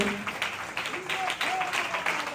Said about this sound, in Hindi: आइए हम सब मिलकर ताली बजाएंगे